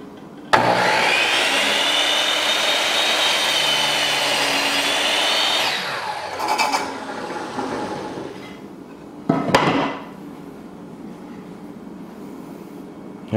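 A power saw fitted with a fresh blade rips a cut loud and close for about five seconds, then spins down, followed by a couple of short bursts and clatters.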